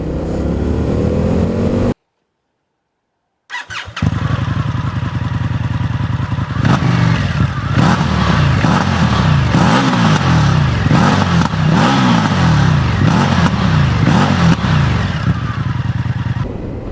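A 2019 Indian FTR 1200S flat-track motorcycle engine while riding, a steady loud throbbing rumble with rising and falling revs and clattering mechanical texture, briefly cut to silence near the start before continuing.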